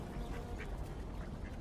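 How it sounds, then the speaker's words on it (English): Ducks glide across open water, with soft, fairly distant quacks rising briefly above a constant low background wash and no speech. "Right now, the ducks are gently gliding across the water."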